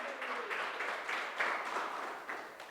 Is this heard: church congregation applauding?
yes